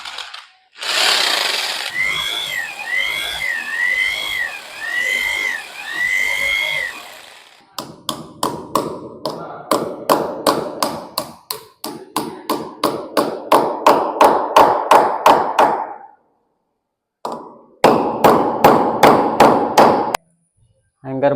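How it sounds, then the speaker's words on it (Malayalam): Anchor bolts being fitted during interior fabrication work: a close, loud power tool whine at first, then long runs of rapid, sharp repeated hammering impacts broken by brief pauses. "ആങ്കർ ബോൾട്ട് ഫിറ്റ് ചെയ്യാണ്"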